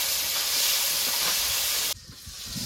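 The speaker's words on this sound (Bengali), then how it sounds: "টমেটোকে একটু লাল লাল করে টমেটোটাকে ভেজে নেব" Tomatoes sprinkled with salt fry in a pan for a mushroom dish, giving a loud, close, steady sizzle that cuts off abruptly near the end and leaves a quieter hiss.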